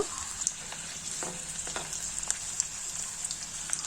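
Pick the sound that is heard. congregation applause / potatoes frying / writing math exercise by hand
potatoes frying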